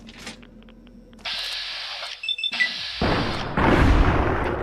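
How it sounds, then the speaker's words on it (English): Explosions in the video game Fallout New Vegas on a modded PC, a burst of booming blasts with bright crackling debris that swells louder and more rumbling toward the end, with no speech. "Ah, those explosions are great."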